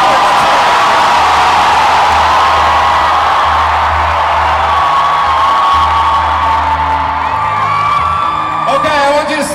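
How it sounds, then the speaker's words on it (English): A concert crowd at a show in Manila cheers and shouts loudly in a continuous dense roar, with low sustained instrument tones underneath. "Cheer as loud as you can."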